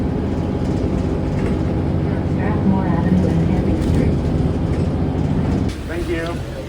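Ride inside a moving bus: a steady low engine rumble and road drone fill the cabin, with faint squeaks and a passenger's voice briefly audible, easing slightly near the end.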